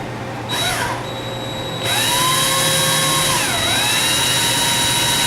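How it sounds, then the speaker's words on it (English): A power drill with a 5/32 drill bit boring rivet holes into F-14D Tomcat model parts, whining at steady high pitch with rising and falling speed changes, close and loud with no talk. "I go through with a 5/32 drill bit."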